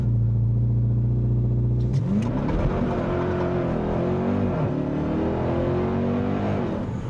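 A 2026 Dodge SRT Durango Hellcat sits holding a deep, steady rumble at launch control, then bursts off the line and accelerates hard, the supercharged engine climbing through rising revs and gear shifts, loud and close.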